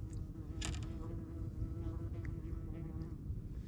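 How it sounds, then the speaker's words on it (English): A bee buzzes close to the face during a fall bass fishing outing, a wavering insect drone that swells and fades against a steady low outdoor hum, with no talk. "Blow the bee out of your face."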